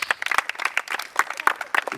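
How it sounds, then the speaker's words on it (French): Campers at a tennis holiday camp closing ceremony are applauded with scattered, uneven hand claps from a small group nearby, brisk and irregular for a couple of seconds. "On les applaudit."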